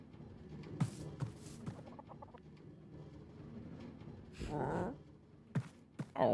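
Video game chickens on a farm cluck quietly in scattered, short bursts with gaps between them, plus a few sharper clucks and one longer squawk, soft against a quiet background.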